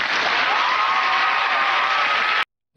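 Studio audience applause follows the end of a Saturday Night Live sketch, a dense, loud, steady wash of clapping and faint cheering that carries on evenly, then cuts off abruptly near the end.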